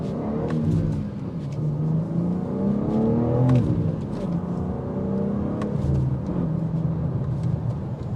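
A 2022 BMW M4 with a manual gearbox pulls hard from a standstill at a red light, its engine rising through revs in repeated surging sweeps with gear changes, loud and close from inside the car.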